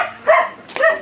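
A dog gives two quick, close barks in succession, loud and sharp, with no talking.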